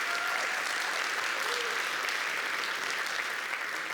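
Sustained audience applause at a theatre awards ceremony, a dense, even wash of many hands clapping at moderate distance, steady throughout with faint voices beneath.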